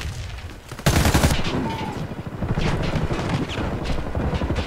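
Video game gunfire: bursts of rapid shots and sharp single cracks, with a loud blast near the start followed by continued automatic fire at close range.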